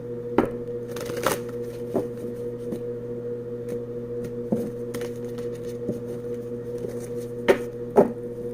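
Soft riffling and tapping of cards being shuffled, faint and intermittent, with a few sharper snaps over a constant low electrical hum.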